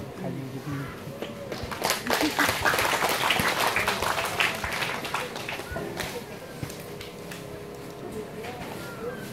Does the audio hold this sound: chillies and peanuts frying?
no